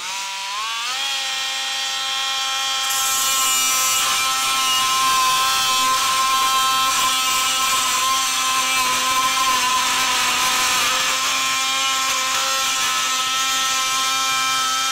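A Dremel Velocity 7.0 amp corded oscillating tool (VC60-01) spins up to 16,000 RPM, giving a loud, steady, high-pitched motor whine with rising harmonics that holds without a break for the whole stretch.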